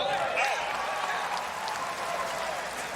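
A packed stadium crowd at the 2024 US Open third-round tennis match between Gabriel Diallo and Tommy Paul applauds and cheers in a dense, continuous roar, with a voice faintly audible underneath.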